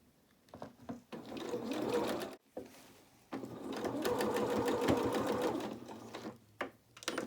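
A sewing machine runs in short, close bursts while stitching gathers on a small doll's dress, with a brief stop between runs and a longer steady stretch before it eases down to a few scattered stitches.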